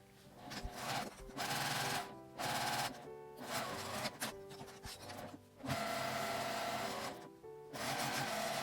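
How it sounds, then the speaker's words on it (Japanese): A sewing machine stitches French seams with a 5 mm allowance on fabric for a sewing machine cover. It gives close, rapid whirring bursts of stitching separated by short pauses, with no voices. "袋縫いにしたいので両端を5ミリの縫い代で縫います。"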